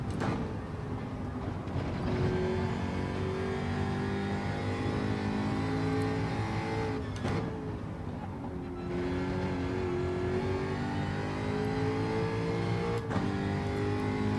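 A race car engine in the Gran Turismo 7 driving game drones steadily throughout, its pitch sweeping up and down through gear changes as the car accelerates and lifts off between corners, loud and continuous with no talk.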